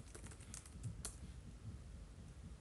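Soft, quick keystrokes patter on a computer keyboard while a git commit message is typed, a close, quiet run of irregular taps with no talking.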